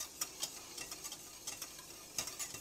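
A spoon stirs thickening butterscotch pie filling in a pot on the stove, making soft, faint scraping and ticking strokes at an irregular pace, with no talking.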